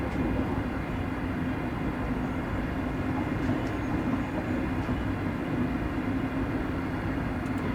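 A diesel locomotive on the Glasgow/Dunblane/Alloa line in Train Simulator rumbles continuously, a steady, dense drone with a faint wheel-and-rail rhythm and no pauses, heard without speech.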